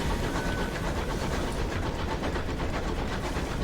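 Locomotive engine of the train in Sunless Skies, a loud steady chugging rumble with a rhythmic clattering pulse, continuous and close throughout.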